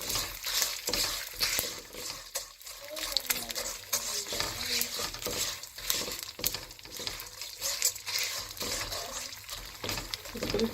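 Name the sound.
frying gondh (edible gum) for punjiri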